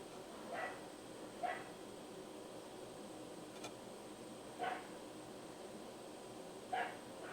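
Dogs barking in the distance, four short faint barks spaced out over a steady background hiss, with no one talking.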